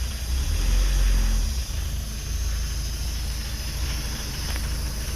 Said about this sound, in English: I'm going to rev it up so the alternator light goes off.